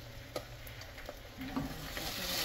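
Salmon and mixed vegetables fry in a pan while being stirred, with soft scraping clicks and a few louder taps over a faint, steady sizzle, quiet and without talk.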